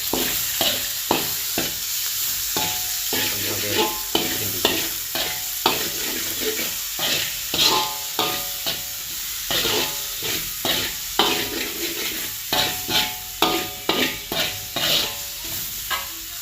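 Ingredients for kuzhambu sauté in a pan while a spoon stirs, producing repeated rhythmic scraping strokes over a continuous sizzle, close and fairly loud, with no talking.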